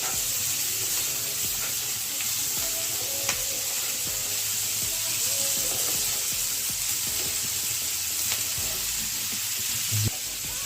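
Chilli powder and mustard paste being stirred in a hot pan for Bengali pui metuli, with a steady loud sizzle and hiss throughout and occasional soft scrapes of the spoon.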